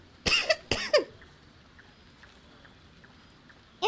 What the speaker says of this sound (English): I'm unfortunately still coughing a bit.